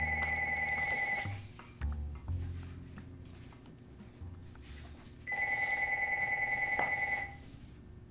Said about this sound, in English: When you talk to Marshall Rauch, you end up getting pretty good at ignoring the sound of a ringing phone